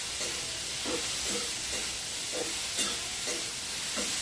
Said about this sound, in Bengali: এখন নাড়াচাড়া করে দিব। নাড়াচাড়া করে দিচ্ছি।